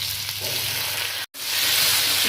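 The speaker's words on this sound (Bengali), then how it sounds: "খুব ভালো করে সবজি একটু ভাজা ভাজা করে নেব" Mixed vegetables for Bengali shukto frying in a pan with spices: a steady, loud sizzle that drops out for a brief instant midway, then resumes strongly, with no voices.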